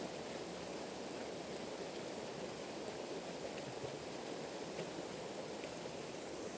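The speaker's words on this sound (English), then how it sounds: "I really do like the sound of running water" Steady, even rush of running water, a continuous broadband wash with no pauses, like a nearby waterfall heard alone.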